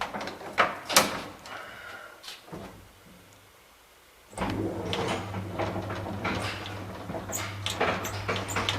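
An old gated ABIS elevator in a Lisbon building: a few loud metallic clanks and knocks at the start, a quiet pause, then a steady machine hum with scattered rattles and clicks as the gate door closes.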